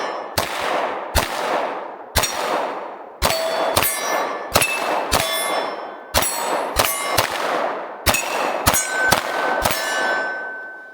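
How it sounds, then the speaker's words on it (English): Glock 19 COA pistol firing a last magazine outdoors in snow at steel targets: sixteen sharp shots in an irregular quick rhythm, each followed by a ringing metallic clang from the steel plates. "let's shoot this last magazine here"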